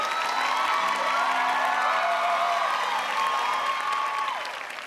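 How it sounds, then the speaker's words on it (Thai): A studio audience at a Thai televised singing contest applauds and cheers steadily, with a bright sustained tone and voices riding over the clapping before it tapers off at the end. "ของพวกเราทุกคนขอเสียงปรบมืออีกครั้งหนึ่งให้กับน้องอาร์ตี"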